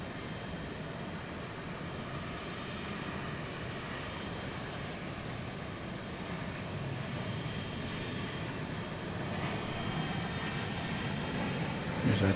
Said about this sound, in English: What have we here? Airbus A319, Flight 1406, off to San Antonio